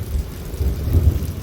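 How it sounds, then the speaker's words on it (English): Rain falls steadily during a storm with hail and lightning nearby, accompanied by a low rumbling of thunder that swells briefly near the middle. "Lightning, thundering, a little bit of hail."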